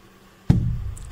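Linen stretched tight on a wooden frame is tapped once, giving a single dull, drum-like thump close by, then a faint second tap at the end.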